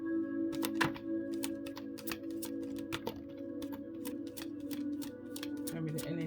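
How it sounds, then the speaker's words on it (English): Tarot cards riffled and shuffled in quick, crisp flicking bursts, close up over a faint steady background hum, with brief pauses between runs. "I got distracted with that shuffle."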